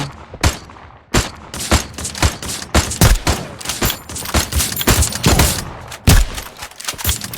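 Rapid, loud gunfire in a tournament video game match: dense bursts of sharp shots crackle in quick succession with brief gaps between volleys.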